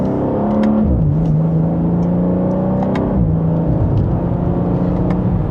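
A twin-turbo 2026 BMW M2 accelerates from second gear, its engine droning steadily loud from inside the cabin, with pitch climbing and dipping at a couple of shifts under constant road rumble.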